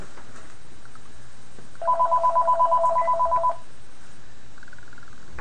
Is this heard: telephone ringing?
yes